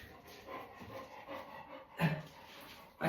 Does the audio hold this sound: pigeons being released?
no